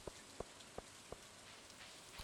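Rain falls in the farming video game Stardew Valley, a faint, steady soft hiss broken by four or five sharper drip-like ticks at regular intervals, then a small cluster near the end.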